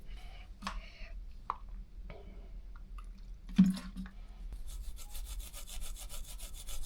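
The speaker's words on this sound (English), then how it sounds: "First we need to remove the old gasket, and then we can move on to the cover itself." An old gasket is scraped off a crashed Yamaha R1 motorcycle's ignition cover in short rasping strokes, close up and fairly quiet, with scattered knocks and a sustained burst of scraping toward the end.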